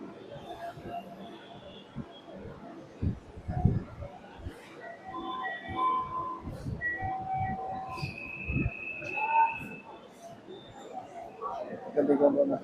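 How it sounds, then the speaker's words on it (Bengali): A metro rail train at a station: rumbling car noise, brief wheel thumps and squeals, and scattered tonal chimes, with people talking nearby over the mix. "এখান থেকে আমরা মেট্রো উঠে যাচ্ছি"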